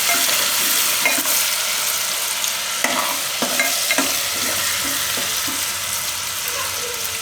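Potatoes for dum aloo are stirred and turned in hot oil, giving a steady close sizzle broken by scattered scraping knocks of the spoon, with no voices.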